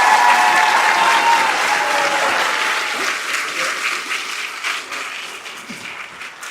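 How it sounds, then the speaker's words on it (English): Audience applause for students at a freshman awards day, a dense, loud wash of many clapping hands that holds steady and then gradually thins and fades toward the end. "Let's give all our students another round of applause."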